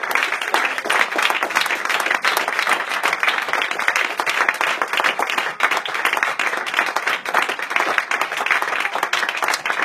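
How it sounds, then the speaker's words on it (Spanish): A church congregation applauds steadily during a Sunday school service, a dense, continuous wash of many hands clapping at close range with no pause. "Dele un aplauso."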